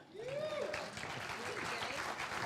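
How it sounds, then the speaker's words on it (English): A forum panel audience breaks into loud, sustained applause for a speaker, with a voice speaking over the clapping and faint crowd noise beneath. "there should be wild applause for Kathy Gordon"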